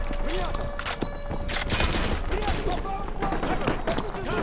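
AK rifle fire during a Modern Warfare 2 Remastered mission, heard as repeated sharp shots and short bursts over continuous battle noise, with a voice talking at times.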